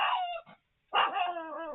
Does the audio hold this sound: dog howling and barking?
yes